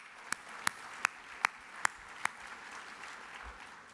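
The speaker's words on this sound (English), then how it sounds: "I'll applaud for that." Six sharp, evenly spaced claps from a lone person at an environmental awards banquet, fairly faint over a quiet room.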